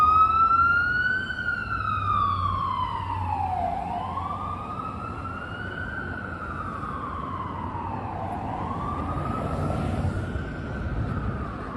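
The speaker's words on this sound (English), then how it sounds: "Now, Mike Novogratz, we'll wait till the ambulance goes by." An ambulance siren rises and falls in slow sweeps on a Midtown Manhattan street at night, fairly distant and steady, passing by without any voices.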